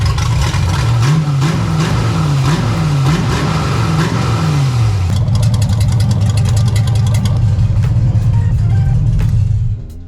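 A twin-turbo Gen 4 5.3 LS V8 swapped into a widebody DeLorean revs hard, its loud engine note rising and falling in quick blips before settling into a sustained, raspy high-rpm roar.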